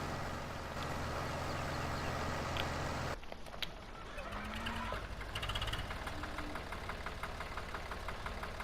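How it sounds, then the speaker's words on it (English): A tractor engine left idling unattended in Farming Simulator 17, a steady low mechanical hum and rhythmic knocking that continues throughout, briefly shifting in tone partway through, fairly quiet and without talk. "he's not even in the tractor anymore. But he has left it running."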